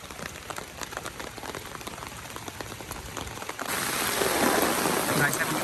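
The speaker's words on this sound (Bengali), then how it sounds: "প্রচুর বৃষ্টি হচ্ছে, এটা আসলে বলার মতো না, অনেক অনেক অনেক জোরে বৃষ্টি হচ্ছে।" Rain pelts down on an outdoor fishing spot in a pattering hiss that suddenly swells into a much heavier, louder downpour partway through.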